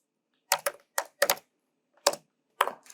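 Keys pressed on a computer keyboard while typing a command into a Kali Linux terminal, about seven crisp, close clicks in small clusters with short pauses between.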